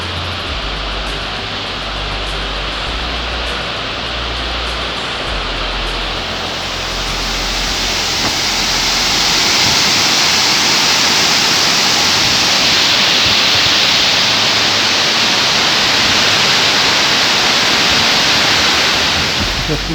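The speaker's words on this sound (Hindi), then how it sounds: "पानी के कलकल ध्वनि की आवाज़ बढ़ती जा रही है" Broad, steady rushing of water at the Ambazari lake overflow swells louder partway through, a continuous roar of water spilling over, with no voices.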